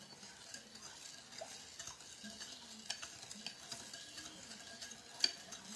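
A spoon stirring sugar through a Lao dipping sauce for mango in a bowl, faint soft scraping and light clinks in an uneven rhythm, close and quiet, with one sharper tap near the end.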